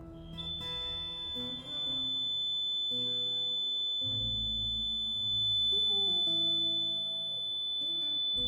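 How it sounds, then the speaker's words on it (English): A building fire alarm under test gives a steady, piercing high electronic tone that holds unbroken through the whole stretch, layered over low background game music. "It's fire alarm testing day."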